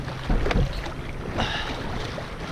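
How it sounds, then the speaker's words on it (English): Paddle strokes from a canoe or kayak on Lake Tahoe, a few soft splashes and swishes through the water, close by, with light wind noise over the microphone and no talking. "Now paddle backwards, like this."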